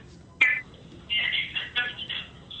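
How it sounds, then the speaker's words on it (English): A phone call ringing through on a live anime talk radio show, heard as a sharp short tone followed by several warbling ring bursts in a rhythmic pattern against a quiet background. "Oh, we have a phone call."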